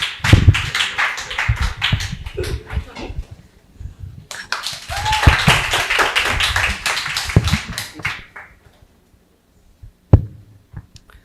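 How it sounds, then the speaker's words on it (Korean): A church congregation at a Friday evening worship service claps to welcome a guest pastor, two lively bursts of applause each lasting several seconds before fading to near quiet, with a couple of sharp taps at the end. "우리 배유강 목사님 소개할 때 박수로 크게 환영해 주십시오"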